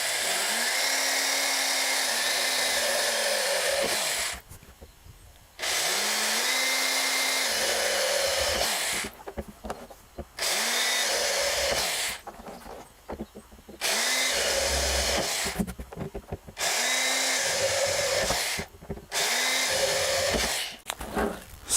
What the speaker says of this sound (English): this is just quite an old drill, but let's do this.